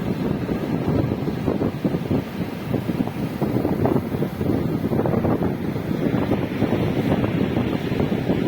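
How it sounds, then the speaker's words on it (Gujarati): Strong wind buffets the microphone in a continuous roar, with surging waves underneath, loud and close throughout, no voices. "ભાઈ જો આવા મોજા આવતા હોય"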